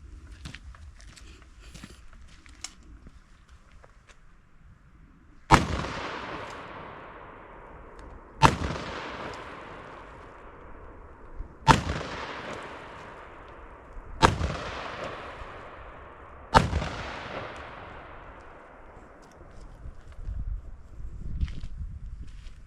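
Five heavy, booming shots from a Smith & Wesson 500 Magnum revolver ring out outdoors at steady intervals of about three seconds, each a sharp blast trailing off in a long echo, with quieter handling noise before the first.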